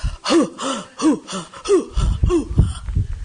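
Loud, close breathing in and out during a color healing session, with about six rhythmic voiced breaths, each a gasping, slightly wheezy pulse, growing rougher and noisier toward the end.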